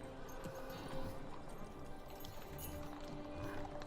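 Horse hooves clip-clopping in the Lord of the Rings Online game, at a horse seller near the road from Hobbiton to Bree: a faint, steady patter of hoofbeats under quiet ambient game sound.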